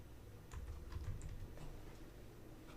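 Quiet typing on a computer keyboard, a light patter of soft keystrokes heard at a distance over a low background hum.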